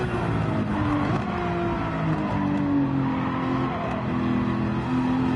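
Simulated race car engine in a racing video game, held under steady throttle through a turn, a continuous close drone with slowly shifting pitch and faint tire noise, no talking.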